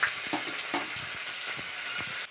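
Chopped onion frying in hot oil with cumin seeds in a home kitchen pan, a steady close sizzle with a few soft stirring knocks, no voices.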